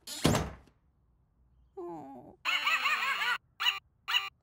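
A cartoon dog gives a few short whimpering, yelping cries, first a wavering whine and then a run of higher barking yelps in bursts, following a sharp thump at the start; no talk.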